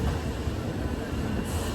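Janshatabdi Express pulling into Tiruchirappalli Junction, giving a steady low rumble of rolling coaches with faint wheel noise, continuous and fairly close with no voices.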